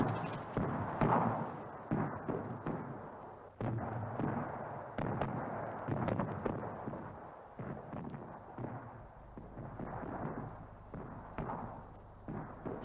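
Russian artillery fire during the Battle of Berlin, a continuous rumbling barrage of heavy booms and cracks, dense and distant-sounding, with no voices over it.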